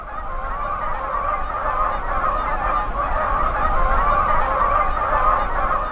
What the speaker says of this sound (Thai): วันนี้เองที่ฝูงห่านจะบินไปทางตอนใต้